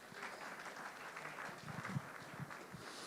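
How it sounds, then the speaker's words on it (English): A faint, steady round of audience applause welcomes a pastor to the microphone at a book launch event, even clapping heard from a distance with some low murmuring underneath. "Please give him a round of applause."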